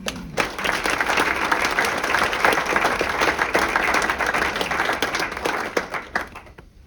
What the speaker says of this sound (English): Just one more round of applause for that department.